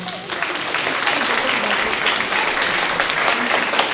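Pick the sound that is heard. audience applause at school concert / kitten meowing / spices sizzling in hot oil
audience applause at school concert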